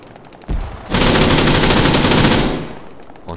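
Rapid automatic gunfire from the Arma 3 King of the Hill military shooter game, a loud sustained burst of shots lasting about two seconds after a single sharp report, then trailing off.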